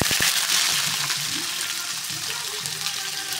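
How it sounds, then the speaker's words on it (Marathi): Chopped onion hits hot oil with curry leaves in a pan on a griddle, starting with a few sharp clatters and then a steady, loud hiss of frying that continues throughout. "पुन्हा चिरलेला कांदा घालणार आहोत"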